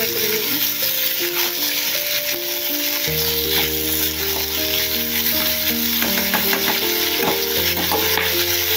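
Capsicum frying in a pan alongside rohu fish pieces for a thin fish curry, with steady sizzling and stirring scrapes throughout, a continuous tonal hum running underneath.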